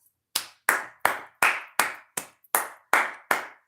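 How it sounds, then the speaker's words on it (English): A steady run of about ten sharp hand claps, evenly spaced and close, with nothing else heard between them. "Let me clap my hands."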